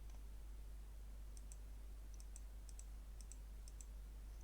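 A computer mouse clicks in quiet pairs, about five or six double clicks at a fairly even pace, over a steady low hum. No voices.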